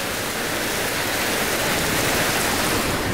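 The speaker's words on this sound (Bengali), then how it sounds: "ভালো বৃষ্টি হচ্ছে" Heavy rain falls in a constant, full roar of broadband hiss, loud and unbroken from start to finish, with nobody speaking.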